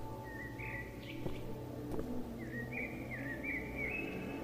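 Birds chirping in a PS1-style horror video game, two drawn-out whistling calls at moderate distance over a steady low ambient hum.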